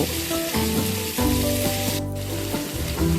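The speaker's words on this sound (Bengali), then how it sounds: "এবার তেলের মধ্যে প্রথমে আলুগুলো একটু দিয়ে দিলাম।" Potato pieces fry in hot oil for a soybean dish, a loud, steady sizzle that crackles continuously and swells as they are stirred, with no voices.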